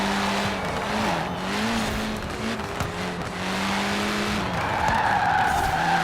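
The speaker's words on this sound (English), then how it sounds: "as soon as I brake, it starts to lose traction quite a bit" Tires of a Nissan Pulsar Group A car in the Forza Horizon 4 racing game squeal and skid under hard braking, a loud sustained wavering screech over the steady engine drone.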